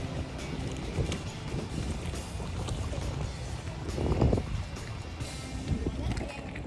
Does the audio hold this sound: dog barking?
no